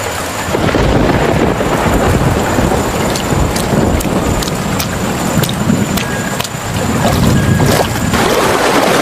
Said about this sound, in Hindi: उधर तूफान भी बढ़ता जा रहा है।